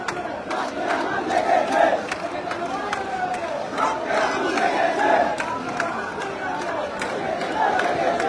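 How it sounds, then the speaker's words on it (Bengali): Students massed at a protest facing police at a road junction chant slogans together, a loud rhythmic crowd roar with overlapping voices throughout. "তারা বিভিন্ন রকমের স্লোগান দিতে শুরু করেছে"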